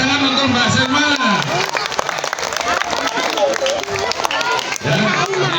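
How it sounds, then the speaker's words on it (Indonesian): A school audience at an anti-bullying awareness session claps for a presenter, giving a burst of applause and crowd noise under a presenter's speech. "Tepuk tangan untuk Mbak Selma."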